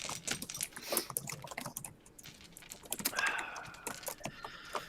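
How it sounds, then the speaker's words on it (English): Someone typing on a computer keyboard picked up faintly over a microphone, quick irregular clicks and taps spread across several seconds. "I hear someone's keyboard."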